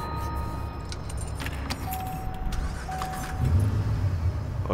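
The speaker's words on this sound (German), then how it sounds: "Auto geht wieder an" A car starting up in the Watch Dogs video game: keys jangle first, then the engine turns over and settles into a low running rumble during the final seconds, close and steady.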